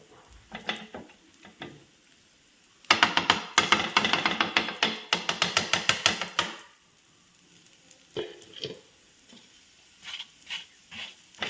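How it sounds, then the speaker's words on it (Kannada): Food frying in ghee in a pan sizzles under intermittent clattering bursts of stirring and scraping, busiest in the middle and sparse and quieter at the start and end. "ಇನ್ನು ತುಪ್ಪ ಹಾಕಿ ಫ್ರೈ ಮಾಡೋದು"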